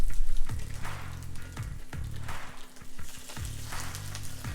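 Za'atar-crusted branzino sizzling skin-side down in a hot pan, a loud steady crackling fry with some stirring under background music, no talk.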